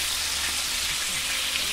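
Lime-seasoned pork skin fries in a tacho pan, giving a constant hissing sizzle dotted with small pops, close and alone.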